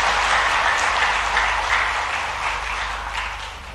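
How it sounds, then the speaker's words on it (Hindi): Loud applause from a large audience at a cow shelter management event in Bhopal, dense and steady clapping filling the space before gradually easing off toward the end. "तो एक बार जोरदार तालियां बजाएं महाराज जी के लिए।"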